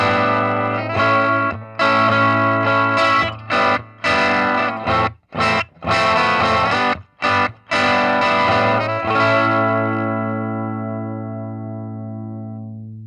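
Electric guitar chords through a Monoprice Stage Right tube amp with slight grit, struck in bursts with brief pauses, the final chord ringing out and slowly fading.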